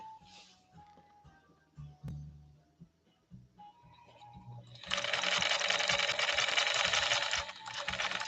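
A 1950s Pfaff 130-6 sewing machine stitching fabric, starting with a few scattered clicks and handling sounds, then settling into a steady, loud, fast mechanical whir that runs continuously to the end.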